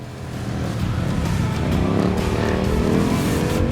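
A car does a burnout at a cruise night, its engine roaring loudly and continuously under rising revs while the tires scream against the pavement, the noise building steadily and staying close throughout.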